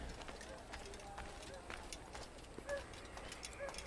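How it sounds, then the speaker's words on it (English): Horse hooves clip-clopping at a run in Assassin's Creed, a quick steady beat that stays faint and continuous under the game's ambient sound, with a voice speaking over it. "Nope, there's a horsey."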